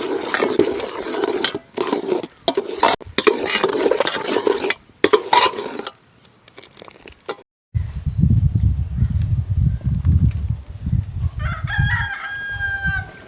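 A spoon stirs a sweet sukhiyan mixture of roasted flattened rice, green gram and cardamom in a pot, making repeated close scraping strokes for several seconds, then a rooster crows loudly nearby and keeps clucking.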